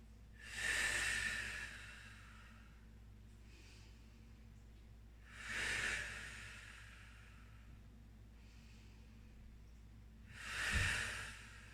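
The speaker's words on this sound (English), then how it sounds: "Big, deep breaths." Three slow, deep breaths during a yoga session, each a breathy rushing exhale spaced several seconds apart, close and fairly quiet against a faint steady hum.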